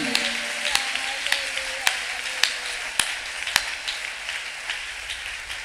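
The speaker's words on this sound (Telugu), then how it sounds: "కొట్టు చప్పట్లు గట్టిగా యేసయ్య కోసం" A church congregation claps for Jesus during a Telugu worship service, producing a steady, sharp rhythmic clapping pulse over a loud, dense wash of crowd and room noise.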